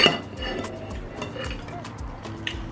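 Food being dished from a pot with a spoon for a Nigerian breakfast, with soft scraping and clinks of the utensil against cookware, close up and fairly quiet.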